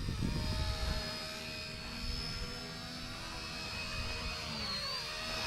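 A brushless XK AS350 RC helicopter hovers hands-off in wind outdoors, giving a steady high-pitched whine of rotor and motor with gusty wind rumble underneath, loudest in the first second.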